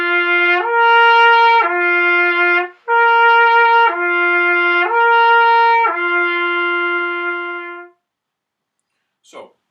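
A brass instrument plays a beginner range exercise from G up to high C, slurring steadily between low and high notes in several connected phrases, clear and close and alone, ending with a brief faint noise after a pause.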